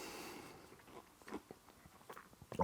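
A piece of crunchy fried courgette, firm and soft in the middle, gets bitten and chewed in a few quiet, close crunches, ending in a louder bite.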